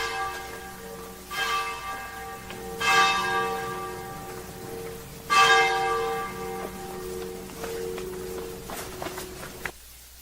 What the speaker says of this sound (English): this is Church Bells in Frascati.